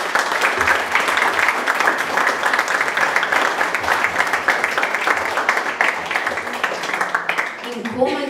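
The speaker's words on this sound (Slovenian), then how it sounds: "dajmo še en velik aplavz za vse 3 avtorje" Loud, sustained applause from a sizable crowd at a song-lyrics award announcement, dense clapping filling the whole stretch before tapering at the very end.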